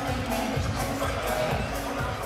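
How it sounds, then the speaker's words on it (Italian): A dense, continuous roar of crowd cheering and applause fills a basketball arena at an all-star game, loud and close with no pauses. "Applausi per tutti"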